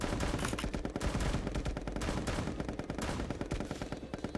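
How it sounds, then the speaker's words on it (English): Rapid SMG fire in Pummel Party, a relentless stream of loud, closely spaced shots rattling on without a break. "Yo, that SMG is crazy."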